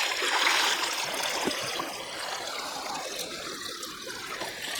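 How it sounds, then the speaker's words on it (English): Water splashing and trickling as it is tipped out of a gold pan, a close continuous wash of liquid that eases slightly toward the end. "tip the water out"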